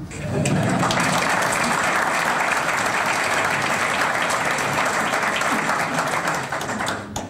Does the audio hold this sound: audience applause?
yes